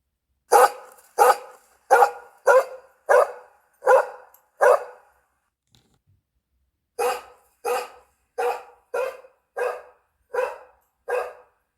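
A dog barks loudly in steady, evenly spaced single barks, seven in a row, then a pause, then seven more at the same rhythm.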